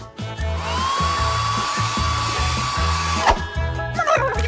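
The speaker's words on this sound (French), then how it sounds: "Tiens, le sèche-cheveux, ça va être beaucoup plus pratique." A hair dryer blows on cake icing, giving a loud, steady whir with a faint pulsing rhythm underneath before it cuts off near the end.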